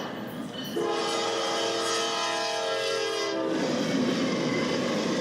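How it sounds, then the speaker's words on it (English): A Herzog ballast train on a Norfolk Southern line passes with a loud, sustained multi-tone horn blast lasting about three seconds over a steady rumble of rolling cars and wheels, heard from nearby trackside. "Whoa! It's a Herzog ballast train."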